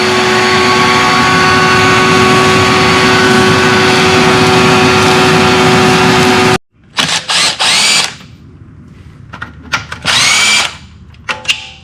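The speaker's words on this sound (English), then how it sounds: "First, I'm going to take the shop vac. We're going to suck some of this up." Shop vac roars loud and steady for several seconds, then cuts off abruptly, followed by short bursts of handling and intermittent noisy suction.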